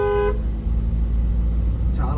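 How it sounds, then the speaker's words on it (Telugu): A Mercedes-Benz dual-tone Clarton horn fitted to a Volkswagen Vento gives a short blast at the start and another near the end, heard close over a low steady engine hum. "ఒకసారి హార్న్ వినంటారు."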